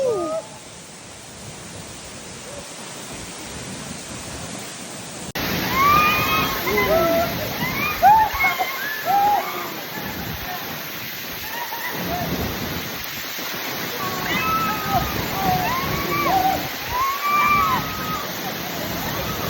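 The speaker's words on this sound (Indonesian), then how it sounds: "Air terjun tidak pernah ragu jatuh dari ketinggian," The Tiu Kelep waterfall in Senaru, North Lombok, roars as a steady, loud wash of falling water, with a quieter stretch at first before a denser, fuller rush takes over.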